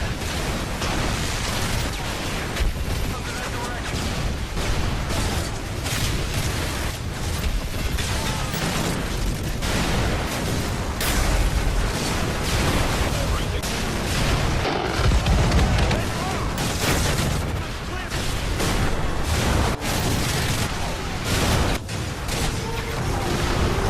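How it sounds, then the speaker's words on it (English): Explosions in the video game Call of Duty: Black Ops boom almost without pause. Heavy blasts and bursts pile up from all sides in a loud, dense barrage lasting throughout. "everything on all sides of you is constantly blowing up"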